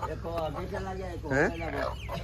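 Chickens and roosters cluck and call in a close, busy flock, with several overlapping voices and one louder squawk rising midway.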